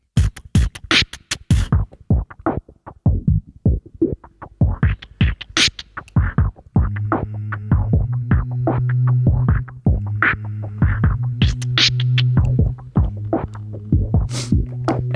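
A beatboxed beat recorded on a loop station with a filter track effect, starting as sharp rhythmic percussive hits, then joined by a throbbing, humming filtered layer that swells and repeats, loud and without talk.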